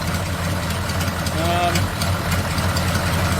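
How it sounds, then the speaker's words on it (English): A GMC diesel truck engine idles steadily with the injector pump advance wire disconnected, a low, even rumble throughout, with faint voices murmuring in the background. "it's idling without the injector pump advance wire hooked up"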